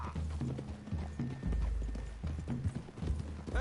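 Horse hooves clip-clop in Red Dead Redemption 2 as a steady, close, rhythmic stream of hoofbeats with a few brief mechanical clicks and no talking.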